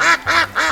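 A duck quacking three times in quick succession, loud and close, each quack a short nasal burst.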